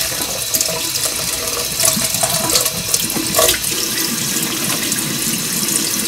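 A kitchen tap runs while pink salmon roe is rinsed under it, giving a loud, continuous splashing rush with small shifts in the flow and no talking.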